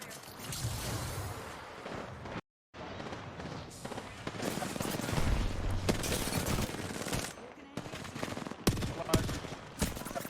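Rapid bursts of automatic weapon fire from an Apex Legends match crackle in dense, repeated volleys with brief pauses, and a voice talks over the shooting.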